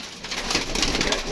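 Pet pigeons cooing in a rooftop loft setup, a soft, low, continuous murmur of several birds close by with no talk.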